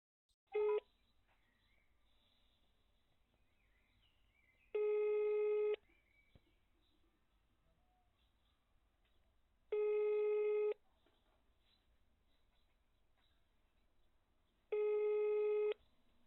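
Ringback tone on a phone call to a fast food restaurant: four evenly spaced one-second tone bursts, about five seconds apart, with faint line hiss between them and no talking.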